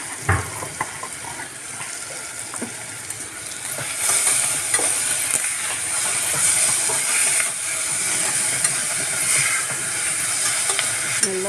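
Salted chow chow and vegetables sautéing in a pan for kootu, a continuous close sizzle with scattered stirring clinks and scrapes that grows slightly louder partway through.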